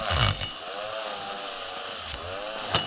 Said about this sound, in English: got a little soft brush on the Dremel, getting into all the little nooks and crannies